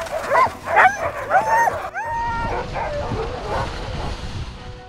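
Sled dogs bark, yip and whimper excitedly in a close, loud chorus, with a sharp burst of yelps at first and then a steady rumble of restless noise.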